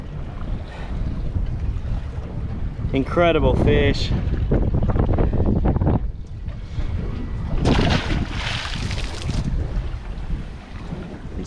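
Strong wind buffets the microphone on a fishing boat at sea while jigging, a steady broadband rush with waves, with someone talking briefly over it.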